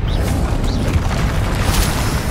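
A spell effect from the Hogwarts Legacy video game, such as Accio or Expelliarmus, booming loudly with a dense, continuous rumbling blast and a brief bright zing, with no speech over it.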